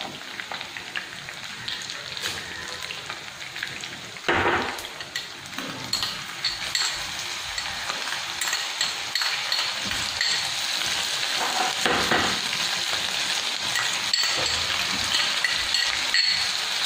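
Ginger and garlic fry with chicken in hot oil for chilli chicken, a steady loud sizzle with occasional bursts as the pan is stirred, close up and with no talking.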